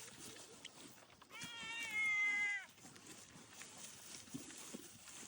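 A cat on a hobby farm gives one drawn-out meow lasting just over a second, set against a quiet outdoor background with soft rustling.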